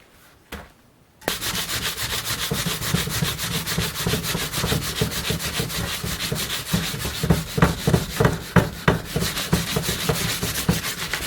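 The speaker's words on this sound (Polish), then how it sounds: "Nakładamy i od razu sobie pomalutku to skrobiemy czy szarujemy." Homemade paste being scrubbed over a burnt pot in steady, close back-and-forth strokes, a continuous abrasive rasping that starts after a brief pause and keeps on with sharper scraping pulses toward the end.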